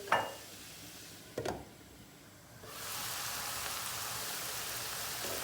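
Onions and peppers sautéing in a hot pan: quiet at first with a brief clatter, then a loud, steady sizzling hiss that fills the second half.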